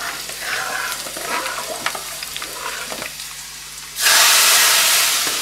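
Hot ghee tadka with red chili poured into dal, starting with quieter stirring and light frying, then a sudden loud sizzle that bursts in near the end and holds, close and alone.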